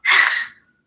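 A person gives one short, sharp snort, a breathy burst that fades within half a second.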